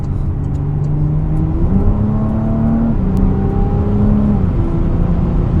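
Porsche Cayenne E-Hybrid Coupe with a Stage 1 tune revving, a loud, close, sustained engine drone that climbs and steps in pitch across the whole stretch, heard alone without talk.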